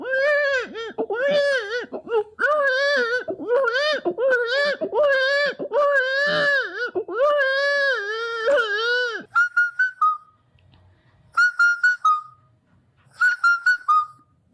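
A voice imitates a newborn baby crying, with repeated loud wailing cries in a steady rhythm, then a few shorter broken cries after brief pauses.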